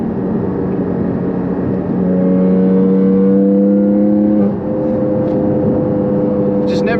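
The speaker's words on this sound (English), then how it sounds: "Never gets old to lay into that gas pedal" A Porsche 718 Cayman GT4 engine heard from inside the cabin pulls hard under full throttle, its loud tone climbing steadily through a gear, briefly dipping at a shift, then rising again.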